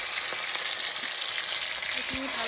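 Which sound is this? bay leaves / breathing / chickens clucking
bay leaves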